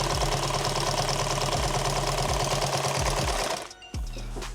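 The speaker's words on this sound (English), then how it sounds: "You could also sew the product upside down." A sewing machine stitches fabric for a micro rig in a fast, even mechanical chatter, close and steady, then stops with a couple of short clicks.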